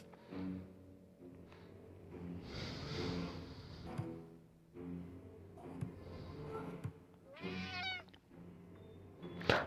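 A cat in the Friday the 13th killer puzzle game meows repeatedly, several clear rising meows spaced across the stretch, fairly quiet and close, with soft game background sounds.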